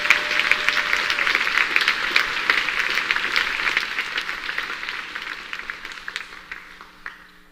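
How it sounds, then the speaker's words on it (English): University audience at a state-of-the-university address claps for the policy committee; the applause starts full and bright, then gradually thins and fades as scattered last claps trail off. "Will you join me in giving them a round of applause for updating our university?"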